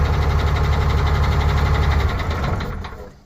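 A Ford Cargo 0813 diesel engine runs at a steady, loud idle with a knocking rumble, then dies away over the last second as it is switched off via the fuel-cutoff pull stop.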